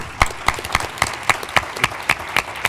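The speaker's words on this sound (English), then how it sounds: "let's give all our presenters another round of applause" An audience at a stroke research pitch event claps for the presenters in a steady, evenly spaced rhythm of sharp, close claps, about four per second, with no talking.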